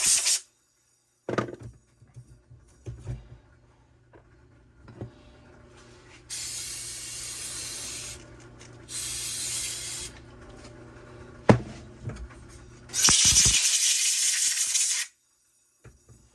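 Compressed air from an air hose blasts in short bursts while a Homelite weedeater carburetor is cleaned. Several loud, hissing spurts of a second or two each are separated by quiet gaps with faint handling clatter, and no one talks.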